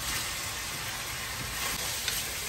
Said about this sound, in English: You fry it with the fat. After about 2 to 3 minutes, you add the sausage.